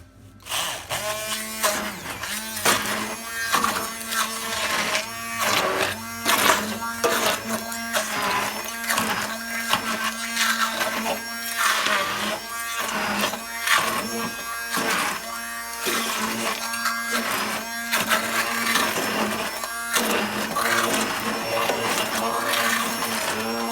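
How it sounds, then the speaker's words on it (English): A loud, steady electric motor whirs with a constant hum for the whole stretch, rising and dipping slightly as an immersion blender churns through chunky tomatillo salsa verde. "hit it with the, what do you call this thing? Immersion blender."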